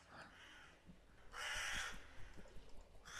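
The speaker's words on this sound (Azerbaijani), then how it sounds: "Qarğa!" A crow caws in The Last Dead End game, a short raspy call rising briefly over a quiet, murky ambient bed with faint low knocks.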